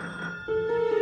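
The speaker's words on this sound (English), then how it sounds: "Then the phone rang." A telephone ringing in a tense motel story scene, a short electronic ring tone that begins abruptly midway and holds steady and fairly loud over a faint background hum.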